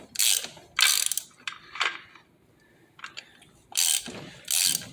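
A ratchet wrench clicks in quick bursts while tightening a fastener on a Harley-Davidson primary, loud close rasping ratchet runs separated by short pauses, with no speech.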